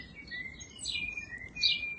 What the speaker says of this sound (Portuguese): improvisando com som de passarinho